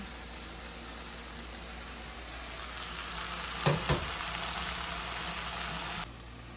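Minced garlic sizzles in oil in a hot pan for tuna kimchi stew, a constant close frying hiss with a couple of brief louder clatters near the middle before the sound drops slightly at the end.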